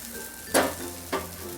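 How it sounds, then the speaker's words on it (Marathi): Khaporali flatbread cooks on an iron griddle with a quiet steady sizzle, broken by two sharp scraping stirs as the bread is worked and turned. "हा माझा भिड्याचा तवा आहे, त्याच्यावर छानच पोळ्या येतात"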